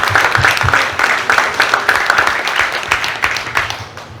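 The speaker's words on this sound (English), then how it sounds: "Everybody, round of applause for Hassan Sabet and Corey Marksman." Audience applause at a fight-card press conference, loud and close, with brisk clapping that stays steady before fading out toward the end.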